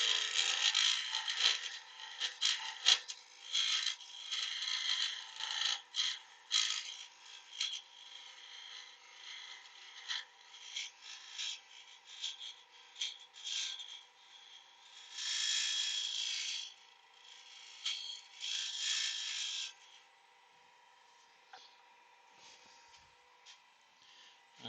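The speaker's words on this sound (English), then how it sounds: "Changing to my round nose scraper here." A round nose scraper cuts wood on a lathe, giving intermittent bursts of raspy scraping over a steady motor hum, with brief pauses before the scraping resumes and then fades to the hum alone.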